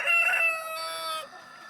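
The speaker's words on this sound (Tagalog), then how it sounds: "Ayan, tumatawag yung ano, isang roaster." Single rooster call at a banana feeding for chickens, a short close crow with a rising start and drawn-out tapering end, heard alone.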